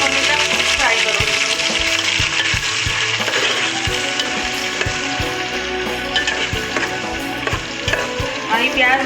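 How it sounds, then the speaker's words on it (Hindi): Sliced onions frying in hot oil in a home kitchen for a dal gosht, a loud, continuous sizzle with frequent clinks and scrapes of stirring close by and no talking. "अब इसके अंदर मैं प्याज ऐड कर रही हूँ, जो 2 स्लाइस कट में कटी हुई प्याज है इसको मैं ऐड कर रही हूँ"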